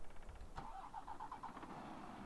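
Tatra Phoenix truck in the farming game Landwirtschafts-Simulator 17 cranks briefly and catches, settling into a steady low rumbling idle, heard alone and fairly quiet.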